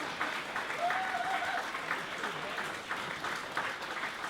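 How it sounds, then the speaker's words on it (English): An audience applauds a nurse named Selena at a cancer charity's tenth anniversary event, with steady, dense clapping across the whole stretch that holds level without fading. "Everybody give Selena a round of applause."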